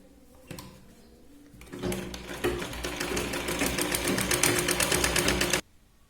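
A sewing machine runs steadily for several seconds, stitching a seam on green blouse fabric, its rapid needle clatter loud and close after a quiet start, then stopping abruptly.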